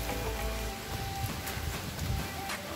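Steady rain pours down during a cave trek near Karjat, a dense continuous hiss of drops hitting surfaces close by, with no voices over it.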